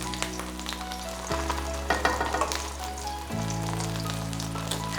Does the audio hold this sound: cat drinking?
no